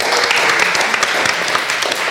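Audience at a live podcast event in Rennes applauding, a brief burst of dense, loud, close clapping that holds steady and sounds alone.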